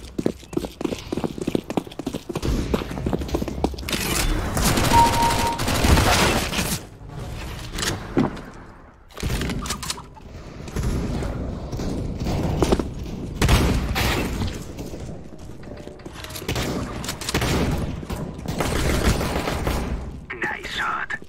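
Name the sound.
sniper gunshots in Counter-Strike: Global Offensive video game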